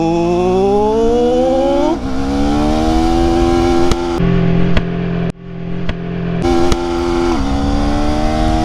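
A motorcycle accelerates hard toward top speed, its engine pitch climbing steadily through the gears with short dips at each shift, loud and close, with wind buffeting near the end.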